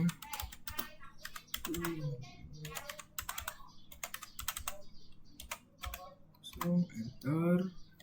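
Rapid computer keyboard typing of network routing commands, with bursts of keystrokes running throughout and a person speaking over the clatter in places.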